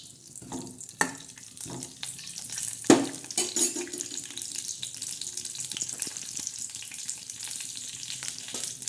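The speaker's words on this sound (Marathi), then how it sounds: "गोड तेलमध्ये जिरे टाकायचे जिऱ्याचा तडका द्यायचा चांगला" Cumin seeds temper in sweet oil in a kadhai, giving a faint, steady sizzle with scattered sharp crackles and pops, one louder pop near the middle, heard alone at close range.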